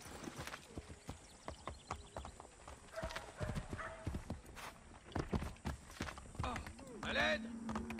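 Horse hooves clatter in a steady clip-clop from Assassin's Creed 3, with a neigh near the end and game sounds and talk layered over the galloping rhythm.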